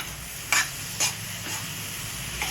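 A ladoo mixture with cardamom powder being stirred and sautéed in a pan, with a faint steady sizzle and a few distinct scraping strokes, close and fairly quiet, with no talking.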